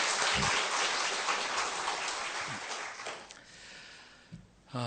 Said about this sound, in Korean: 다시 한번 네 분을 위해서 우리 환영의 박수합시다